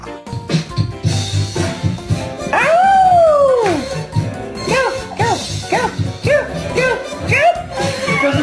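Two dogs howl and whine in rising, wavering cries, one long drawn-out howl followed by shorter yelps and whimpers, loud and close, with people talking over them.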